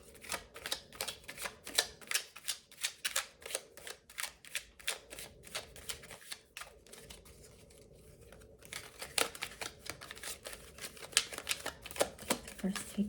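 A deck of tarot cards being shuffled, with rapid rhythmic riffling snaps and papery flicks in close, crisp bursts, broken by a short pause before the shuffling resumes.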